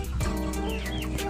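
Roughly 300 two-kilo broiler chickens cluck and chatter on a farm, a dense, close chorus of overlapping short calls with no human voices.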